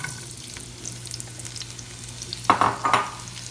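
Onions frying in bacon grease, a steady sizzle with the sharper hiss and scrape of stirring near the end, close and without talk.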